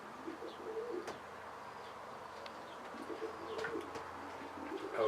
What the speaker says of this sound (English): you can see another Stichelbaut pigeon on my loft